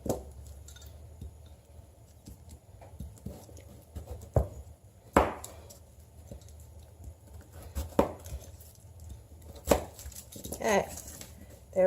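A kitchen knife slices a beet in half on a counter with several sharp, faint taps and chops spaced irregularly over quiet room tone.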